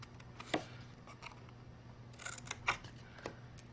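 Scissors snip through paper cardstock for a Stampin' Up! holiday slider box, a few crisp, separate cuts against a quiet room, close up, with no talk.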